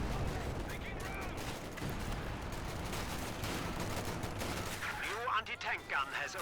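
Heavy artillery and gunfire rumble and crackle through a Company of Heroes 2 battle, a dense, continuous barrage with sharper bursts toward the end, while a commentator talks over it.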